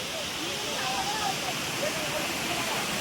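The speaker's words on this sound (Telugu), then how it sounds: "చాలా హైట్లో నుంచి అయితే వాటర్ ఫ్లో అవుతుంది." Rampa waterfall near Rampachodavaram in Andhra Pradesh pours from a great height, a dense, unbroken roar of falling water that fills the whole stretch at a steady, loud level.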